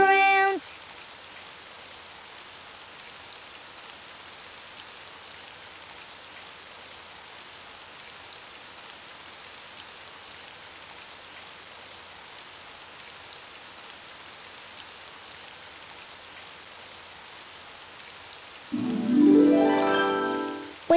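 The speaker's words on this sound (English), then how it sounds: "Oh, it's raining outside." Steady rain falls evenly throughout, a soft constant patter with a brief voice at the very start and another sound rising near the end.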